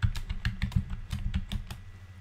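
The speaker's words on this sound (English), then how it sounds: "so just go ahead and type that in." Fingers type an administrator password on a Mac computer keyboard, a quick run of about a dozen close, crisp keystrokes in an uneven rhythm with no talking.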